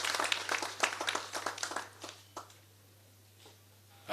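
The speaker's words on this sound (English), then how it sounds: "We should all clap our hands for these health workers" Applause for hospital health workers as three patients are discharged after recovering from COVID-19: a burst of hand clapping for about two seconds that quickly fades to quiet, with a few stray claps near the end.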